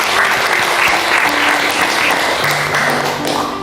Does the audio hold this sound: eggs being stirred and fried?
no